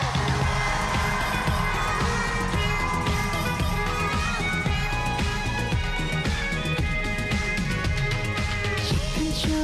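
A large crowd at a trot music concert cheers and shouts continuously at a steady, loud level, a dense wall of voices with no pauses.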